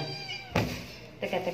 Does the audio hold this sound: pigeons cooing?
no